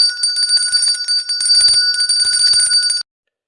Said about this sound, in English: It's my Verity bell.